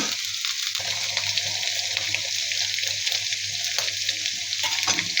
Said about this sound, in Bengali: ভেজে নিব।